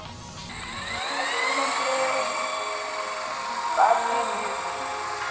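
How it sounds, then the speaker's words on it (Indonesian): Machine polisher working over car body paint to smooth out orange-peel texture, a steady close high-pitched motor whine that holds continuously with slight pitch shifts as the pad moves. "langsung kita lanjut poles lagi aja"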